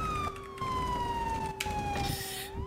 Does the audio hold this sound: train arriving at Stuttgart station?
no